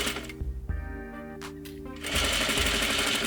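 A sewing machine stitches a trouser front leg to its pocket stay along the top edge in short bursts, with a brief pause midway and a steadier, louder run of stitching toward the end.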